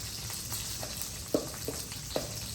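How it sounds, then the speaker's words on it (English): Eggplant sears in oil in a pan with a low, even sizzle, broken by a few soft knocks and scrapes. "you can put a little bit more oil in the pan just to help give your eggplant some sear"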